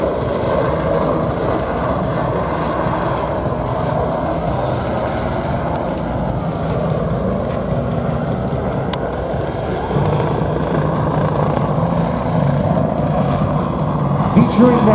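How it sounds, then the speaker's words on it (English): Bell 429 Global Ranger, a four-blade single-engine civil utility helicopter flown by the Georgia State Patrol, makes a steady, loud rotor and engine rumble throughout at an airshow demonstration, with a public-address announcer talking over it. "Featuring now the Bell 429 Global Ranger helicopter."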